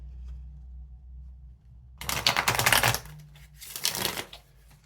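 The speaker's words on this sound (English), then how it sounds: "Give it a couple more shuffles." A deck of tarot cards is shuffled briskly in two quick riffle bursts, crisp and close, separated by a short pause.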